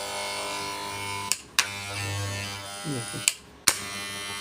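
An FYC electric hair trimmer, repaired for a loud noise fault, runs with a steady buzzing hum that is cut off and restarted a few times, with sharp clicks at each switch, while someone speaks briefly over it.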